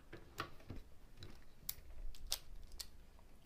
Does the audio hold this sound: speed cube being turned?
yes